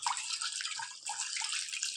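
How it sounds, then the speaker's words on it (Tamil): Water poured and swished over rajma kidney beans being rinsed for a dhaba-style rajma masala, a steady close splashing and running-water rush throughout with no voices. "இது போல் நல்ல தண்ணியை விட்டு நல்லா களைஞ்சி எடுத்துடணும்"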